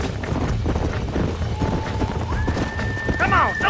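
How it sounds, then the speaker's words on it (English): Horses whinny and hooves clop in the Red Dead Redemption video game, with a rising neigh near the end over steady busy game sound and someone talking throughout. "There's the horses!"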